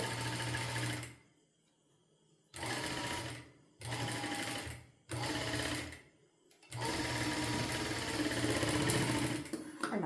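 A sewing machine stitches slowly through fabric studded with beads and stones, running close and loud in four steady bursts separated by short silent pauses, with no talk.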